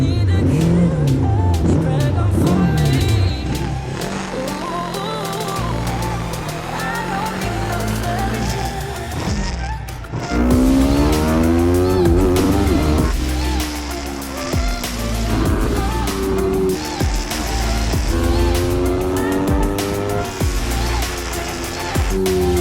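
A Yamaha R3 300SSP race motorcycle roars and rises in pitch riding laps on a cold race track, repeated surges and downshifts, loud and continuous throughout.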